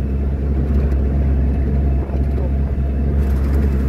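Steady, loud engine drone and cabin rumble from a UAZ Gazik off-road car on the move, a constant low roar with no breaks throughout.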